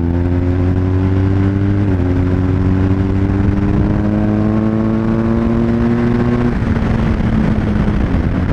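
A BMW 1250 GS boxer-twin motorcycle engine drones steadily while riding at speed, its pitch climbing through a gear and then dropping back, with constant wind rush underneath.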